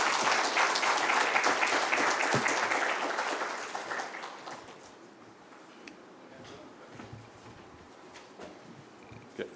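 A crowd applauds to welcome the chief guest at a Green Climate Fund launch in Nairobi: fairly faint, dense clapping for about four seconds, then dying away into scattered claps and quiet room noise.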